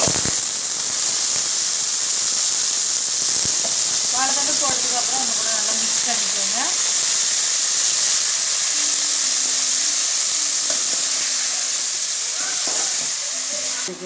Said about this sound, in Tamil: இப்போ வாழைத்தண்டு போட்டு நல்லா மிக்ஸ் பண்ணியாச்சு